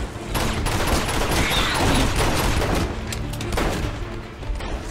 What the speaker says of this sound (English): Not really sure what kind of gun this is.